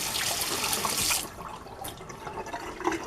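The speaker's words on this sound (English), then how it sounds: "Let me rinse my hand first." A hand rinsed under a running kitchen tap, a loud rush of flowing water that cuts off after about a second, followed by faint drips and small splashes.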